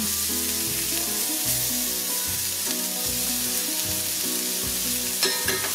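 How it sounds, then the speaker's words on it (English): Spaghetti squash pieces packed tightly in a pan browning over medium heat, giving a steady close sizzle with light frying crackle throughout, no voices. "Now we're going to cook this over medium heat till it browns on one side."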